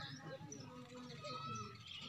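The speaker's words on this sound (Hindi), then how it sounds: "यही ऐसे ही कबूतर है।" Pigeons cooing and calling outdoors in a hot morning setting, soft repeated coos and chirps blending under a steady background, with a voice talking over them.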